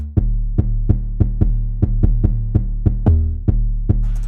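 A deep 808 bass pattern in a dark Jersey drill beat, pitched down to D5, with a string of punchy booming hits at an uneven rhythm and one longer sliding note, loud and alone, ending with a short noisy burst.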